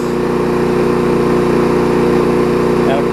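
Gasoline push lawn mower engine running steadily at close range, a loud constant droning hum with even rhythm throughout, no pauses.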